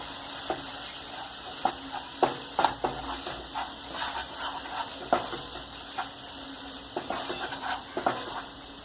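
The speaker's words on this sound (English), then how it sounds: "I am adding 2 teaspoons of sambar powder to the masala" Sambar powder being stirred into a masala frying in a pan for restaurant-style egg gravy: a steady sizzle with repeated scraping stir strokes throughout, close and fairly loud, no talking.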